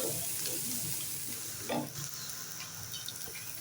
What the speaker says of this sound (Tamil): ஆனியன் போட்டு நல்லா ஃப்ரை பண்ணிகிட்டே இருங்க